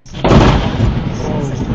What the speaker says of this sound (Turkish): Yağışlı havayla birlikte bir elektrik direğine yıldırım düşme anı ise araç kamerasına yansıdı.